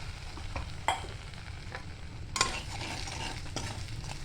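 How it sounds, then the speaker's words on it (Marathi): Cumin and fennel seeds stirred in hot oil with the gas turned off, for thin poha chivda; a steady soft sizzle runs throughout, with a few scraping stirs standing out, close and moderately loud, and no talking. "आणि असं थोडंसं हलवून घेऊया आपण. एकत्र मिक्स करूया"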